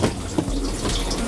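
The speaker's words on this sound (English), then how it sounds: "We can flush using the button behind." A motorhome toilet in a Highlander 726/736 flushes into its waste cassette, giving a brief, loud rush of running water that stays steady throughout.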